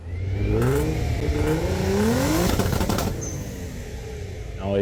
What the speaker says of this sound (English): the sound of a loud muffler is a point of pride for the power of their engines